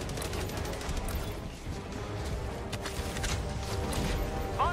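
Helldivers 2 gunfire in a video game, a steady stream of rapid crackling shots with metallic clanks, a dense continuous barrage.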